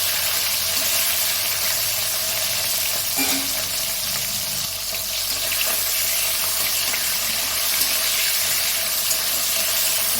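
Three hilsa fish heads frying in oil in a pan, giving a steady, continuous sizzling hiss that stays even and close throughout with no talking.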